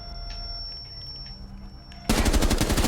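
Automatic gunfire in the video game Rainbow Six Siege: a rapid, loud burst of shots erupts suddenly after a quiet stretch of low background sound, with no voices.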